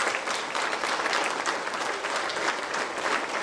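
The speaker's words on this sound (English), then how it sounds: "one applause for her, please" Warm crowd applause at a family speech event, many hands clapping in a thick, even patter that stays moderately loud for the whole stretch, without any talking on top.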